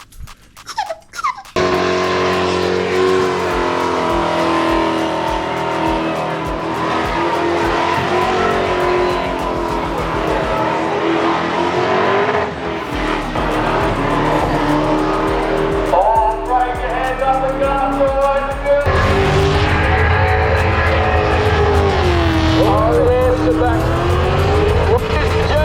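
Cars do burnouts at the Springnats car show, engines screaming at high revs with tires squealing loudly and continuously. Crowd noise and voices sit under the roar.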